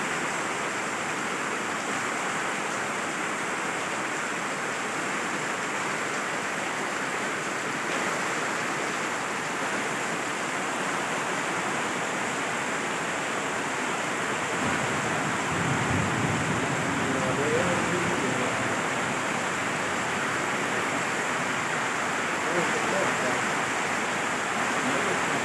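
Water pours steadily in a continuous, even broadband rush that runs for the whole stretch, growing slightly fuller and louder partway through, with no clear breaks.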